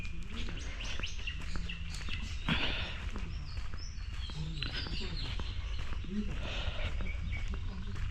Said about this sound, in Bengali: অসংখ্য পাখি ডাকছে সকালবেলা